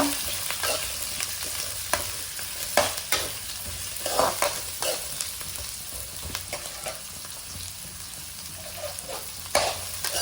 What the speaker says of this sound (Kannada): ಇದನ್ನು ಒಳ್ಳೆ ಮಾಡಿ ಇವಾಗ ಫ್ರೈ ಮಾಡ್ಕೊಳ್ತಾ ಇದ್ದೇವೆ.